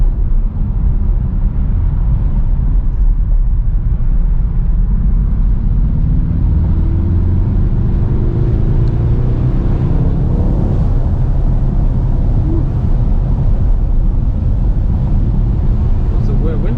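A Mercedes-AMG GT 63 S 4-door Coupe with 630 hp, driven in Sport Plus mode, gives a deep continuous engine rumble that rises gradually, heard from inside the cabin with wind noise and voices over it.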